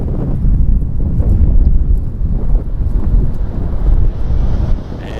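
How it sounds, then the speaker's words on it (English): Gusty winter wind at Toronto Pearson airport buffets the microphone in loud, rumbling, uneven gusts that rise and fall, easing near the end, with no voices. "It is getting gusty."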